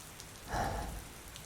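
Rain falls steadily on a rainy day as a soft, even patter that swells briefly in the middle, with no voices.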